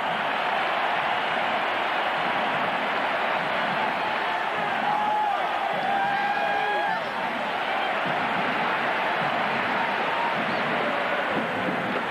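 A large college football stadium crowd at a 1991 Florida versus Syracuse game, giving off a dense, continuous roar of cheering that stays loud throughout, with a few faint whistles.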